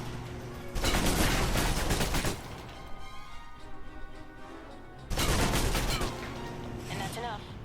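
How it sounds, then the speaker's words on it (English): Two loud bursts of submachine gun fire in the video game Alpha Protocol, each a rapid stream of shots lasting a second or two. A quieter stretch with game sounds and voices falls between them. "Now for your submachine guns."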